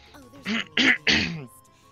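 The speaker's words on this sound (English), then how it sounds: "Excuse me, I coughed." A single adult cough, sharp and close, during a gaming livestream, with a short throat-clearing sound and faint voice around it in an otherwise quiet room.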